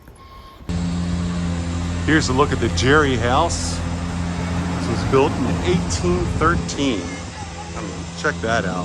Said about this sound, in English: Sorry about the noise, guys. It's that truck back there.